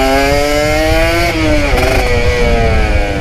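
A Kawasaki Ninja ZX150 two-stroke motorcycle revs hard nearby, its buzzing engine pitch climbing steadily, dipping briefly between gear shifts and climbing again, loud and alone without speech.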